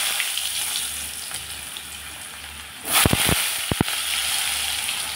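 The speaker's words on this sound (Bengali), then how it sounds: "আলুগুলোকে এখন আমি লাল লাল করে ভেজে নেব" Potatoes fry in plenty of hot oil seasoned with cumin seeds and a small bay leaf, a steady close sizzle broken by a burst of sharp crackling and spitting about midway.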